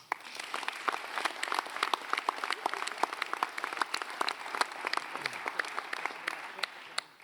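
Audience applause for a children's council at a 2025 New Year's wishes ceremony: dense, steady clapping from a crowd throughout, with a faint voice underneath.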